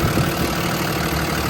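A 2016 Freightliner M2 diesel utility truck with 64,000 miles idles close by, a steady, dense rumble with no breaks or change in pitch.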